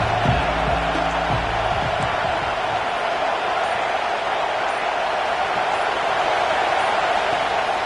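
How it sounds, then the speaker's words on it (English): Big 12 college football stadium crowd roaring in a steady, dense wall of noise, with a few faint bouncing thumps early on and no clear talk. "This crowd ready to make its presence known."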